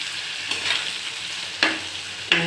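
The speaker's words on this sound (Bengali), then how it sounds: "খুব ভালোভাবে কষিয়ে নিতে হবে যাতে এর মধ্যে আদার কাঁচা গন্ধটা না থাকে।" Ginger mixture sautéed in a pan, giving a steady close sizzle broken by three sharp scraping strokes of the spoon, with no talking.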